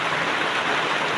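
Sudden heavy rain pours down, a dense, loud, unbroken hiss of falling water.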